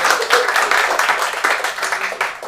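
Audience applause at a stand-up comedy show at The Habitat, a dense wash of many hands clapping steadily and loudly for the whole stretch with no pause.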